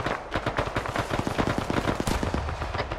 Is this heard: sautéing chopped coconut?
no